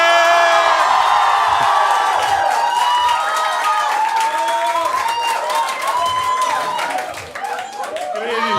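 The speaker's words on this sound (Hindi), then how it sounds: "जोरदार तालियां।" A loud comedy-show crowd in India claps, whoops and cheers as a comedian is called to the stage, a dense sustained roar of hands and voices that dips briefly near the end.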